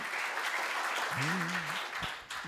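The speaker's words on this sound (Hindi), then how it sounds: "बजा दूं तो आप भी बजा दीजिए एक बार तालियां।" An audience at a political rally applauds in a sustained wash of clapping, while a voice briefly speaks over it in the middle.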